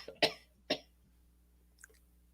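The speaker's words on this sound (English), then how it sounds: "that cough ain't sound too good" Two sharp, close coughs in quick succession, followed by a faint short throat sound, in an otherwise quiet room.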